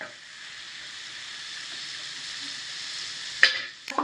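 Ridge gourd pieces and chana dal with chili powder fry in a pan, giving a steady close sizzle that is briefly broken near the end by a couple of sharp stirring scrapes.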